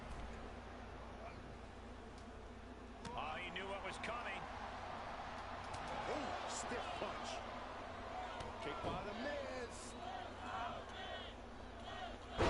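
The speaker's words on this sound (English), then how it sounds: "the fans actually cheering for The Miz" An arena crowd in the wrestling game WWE 2K22 cheers and roars for a wrestler, swelling after a few seconds into a sustained, fairly distant wall of noise, with commentary voices talking over it.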